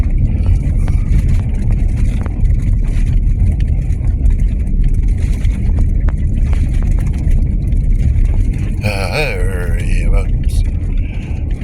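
A truck rolls over bumpy road, a steady loud engine rumble with uneven low thumps and rattles from the cab, and a short squeal partway through.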